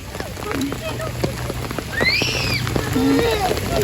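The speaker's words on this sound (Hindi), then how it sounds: "इतनी तेज बारिश हो गई है जी कि बस हमारी पार्टी पूरी चौपट हो गई।" Heavy rain pours down at an outdoor picnic, a dense steady patter. Voices sound over it.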